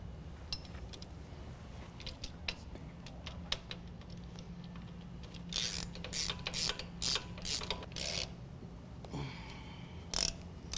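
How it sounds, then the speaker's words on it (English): Ratchet wrench tightening sway bar links on a 2016 Chevy Silverado 1500 during a Havoc Offroad 6.5-inch lift kit install: quiet, rapid clicking bursts, sparse at first then denser and louder near the end, with no talk. "now we're going to tighten down the sway bar links here"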